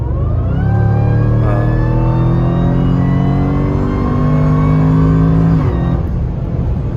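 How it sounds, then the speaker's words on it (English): A loud supercharged Jaguar F-Pace SVR engine revving, its pitch climbing steadily with a whining supercharger tone riding above, then dropping off sharply near the end. "That supercharger whine"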